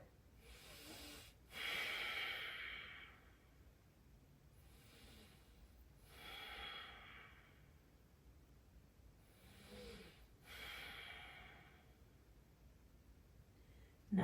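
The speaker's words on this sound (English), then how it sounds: "Ujjayi breath." Slow ujjayi yoga breathing during a warrior pose, long hissing breaths through a constricted throat repeating every few seconds, close and soft.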